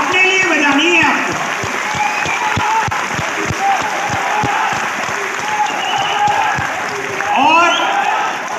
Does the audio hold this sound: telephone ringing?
no